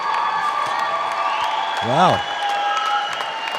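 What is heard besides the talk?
crowd cheering a trampoline gymnast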